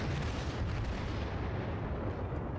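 Battleship guns fire in World of Warships, a dense continuous roar of heavy booming blasts and rumbling, loud and sustained with no talking.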